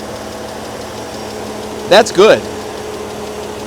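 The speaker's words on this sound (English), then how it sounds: "Sounds like a typical BMW engine to me." A BMW engine idles steadily in the background throughout, a low continuous hum, while someone briefly speaks over it.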